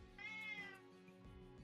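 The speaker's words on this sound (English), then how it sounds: "My sisters keep putting my cat inside my room. He wants out." A pet cat shut inside a bedroom lets out one clear, fairly close meow asking to be let out, followed by quiet room noise.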